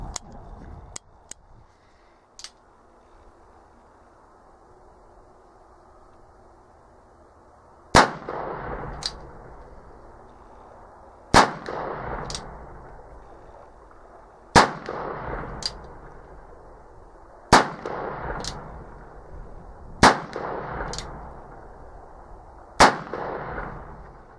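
An Italian-made replica 1858 New Model Army percussion revolver fired seven times in a slow, evenly spaced string, each shot a sharp, loud crack with a short ringing tail, plus faint clicks of handling at the start.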